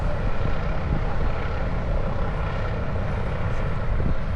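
A loud, continuous rescue helicopter engine roar with rotor throb at an air show, steady and close throughout.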